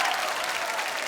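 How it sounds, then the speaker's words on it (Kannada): Dense, steady applause from a studio audience at a comedy show, a continuous wash of many hands clapping together with no voices standing out. "ಬರ್ಲಿ ಚಪ್ಪಾಳೆ, ಬನ್ನಿ"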